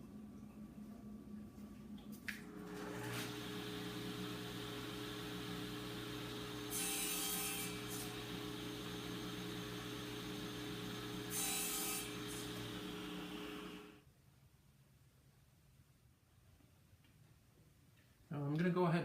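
A saw on a wedgie sled cuts wood test segments with a steady, close motor whine, and two brief harsher bursts mark the cuts before it winds down to quiet.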